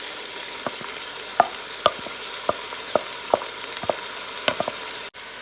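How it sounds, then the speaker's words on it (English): Washed rice frying in a pot while being stirred: steady sizzling hiss under a series of about a dozen spaced spoon scrapes and knocks against the pot, close and without talk. "I'm going to fry up this rice a little"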